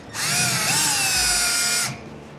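A drill bores a small pilot hole up through garage ceiling drywall toward a joist in one loud, steady, close whine lasting nearly two seconds, with a slight pitch dip partway through before stopping.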